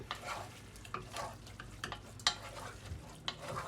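Seasoned meat stirred and fried in a pan for spaghetti sauce: a soft continuous sizzle under irregular scraping and light clinks of a utensil against the pan, fairly quiet and close.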